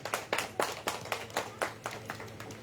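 Sparse, rhythmic handclaps from a small audience at a press club felicitation meeting in Arambagh, about a dozen distinct claps at a steady pace, fairly quiet and without talk.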